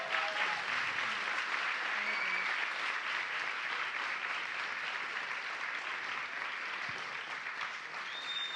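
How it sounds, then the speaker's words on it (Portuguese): A seated audience gives a long, even round of applause for guests at a panel discussion, steady crowd clapping that holds without pause at moderate distance. "Mas eu gostaria de uma imensa salva de palmas para os nossos convidados."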